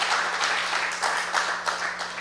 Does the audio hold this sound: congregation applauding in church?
yes